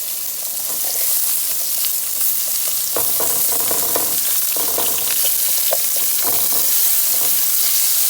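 Shredded cabbage fries Southern style in a pan over medium heat, giving a steady close sizzle with bursts of crackle as it is stirred.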